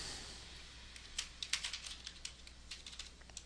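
Keys clatter on a computer keyboard in a quiet room, faint at first, then a run of light, irregular taps picking up over a low hum.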